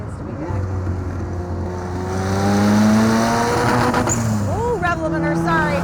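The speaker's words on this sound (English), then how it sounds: "Ooh, rev limiter, sorry." A 400 hp turbocharged RX7 rotary engine in a home-built Lotus 7 replica revs up hard and bounces off its rev limiter, the loud, buzzing engine note rising and stuttering under excited voices from the occupants.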